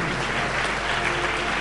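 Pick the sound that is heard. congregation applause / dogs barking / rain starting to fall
congregation applause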